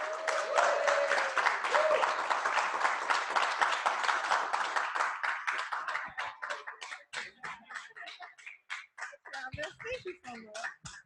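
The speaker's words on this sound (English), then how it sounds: "keep clapping until they get to the front of the room" An audience at a birthday gathering applauds as the birthday girl walks to the front. Dense, steady clapping thins into scattered individual claps near the end, with a brief voiced tone at the start.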